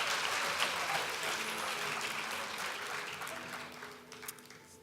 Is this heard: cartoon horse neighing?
no